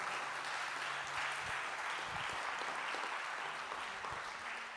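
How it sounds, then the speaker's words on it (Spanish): A church congregation gives sustained, even applause, a soft, steady wash of many hands clapping throughout, heard at a fair distance without talk. "Vamos, denle un aplauso al Señor."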